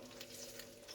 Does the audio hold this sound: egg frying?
yes